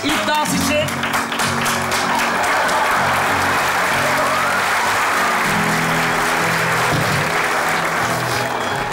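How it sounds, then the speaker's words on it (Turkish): Sustained, loud audience applause from a comedy stage show greets a groom and bride's first dance, filling the whole stretch with dense clapping over a low musical hum. "Damat da geline alkış."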